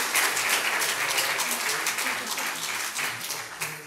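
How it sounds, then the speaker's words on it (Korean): A crowd applauds at a church education department graduation ceremony, a thick, continuous burst of many hands clapping that tapers slightly toward the end. "박수 한번 할까?"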